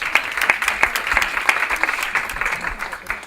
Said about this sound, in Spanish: veo que los aplausos indican que el público te ha perdonado